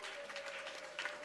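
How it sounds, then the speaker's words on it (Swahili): A church congregation applauds during a sermon, a steady patter of many hands clapping that sounds faint and distant, with no voices over it. "Jipigie makofi mazuri."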